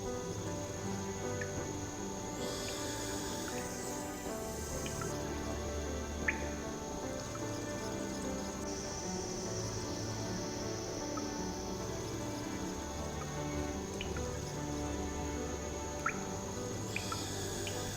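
Water dripping in a room of the Nancy Drew game Curse of Blackmoor Manor, scattered faint single drips at irregular intervals over a constant hum of ambient air noise and soft music.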